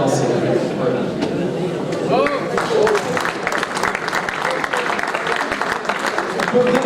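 An audience claps steadily through the whole stretch, a dense, even wash of applause from a crowd at a bullfighting season presentation, with a voice speaking faintly beneath it.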